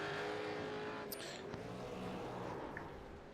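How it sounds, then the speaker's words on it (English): A V8 race car engine at the Bathurst round of the East Coast V8 Series runs again, giving a steady, fairly faint humming engine note heard from some distance with no talking. "it sounds like it's got the engine going again"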